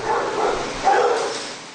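A rescued female dog at an animal care and control shelter gives a short, close bark-like yelp, with a slightly louder burst midway through the brief sound.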